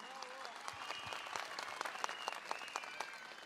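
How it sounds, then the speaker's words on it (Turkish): Crowd applauding at a CHP political rally in Edirne, continuous clapping with sharper individual claps and some cheering, heard at moderate distance. "En kuvvetli alkışları istiyoruz"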